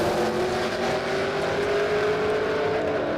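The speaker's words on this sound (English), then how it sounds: "I can hear Page's blower whine from here." A supercharged drag race car at Warwick Dragway gives off a sustained high blower whine over a steady engine drone, heard from a distance and holding at a constant moderate level without talk.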